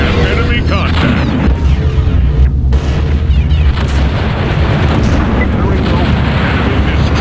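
Explosions of destroyed enemy units in the Urban Assault video game, a dense, continuous barrage of deep booms and bursts under a constant roar, with game voice callouts over the top.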